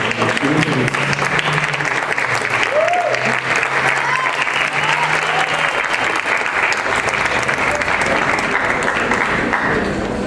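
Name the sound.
audience applause for Dr. Héctor Zagal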